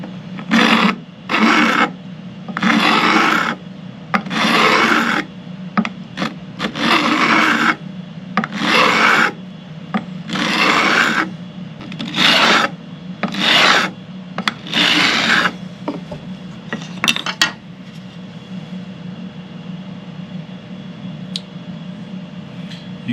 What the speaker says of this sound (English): the next step is to bevel the ends of the frets